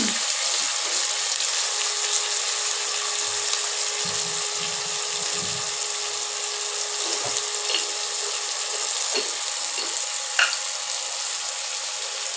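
Potatoes cut as for frying and a little tomato sizzle in hot oil in a wok, a steady hissing fry with small crackles and pops, close and continuous with no talking.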